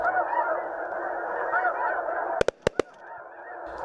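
A dense chorus of snow geese honks steadily, loud and continuous, broken by a few sharp clacks near the end.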